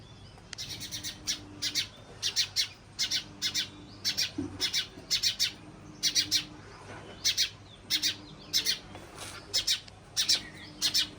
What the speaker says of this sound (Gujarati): અહીંયા અફળિયામાં ચકલા આવે છે